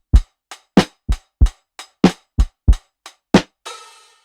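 A punchy, dry lo-fi drum preset pattern from Addictive Drums 2 of about a dozen hits, kicks and snares in a loose groove, ending on a washy cymbal that rings out.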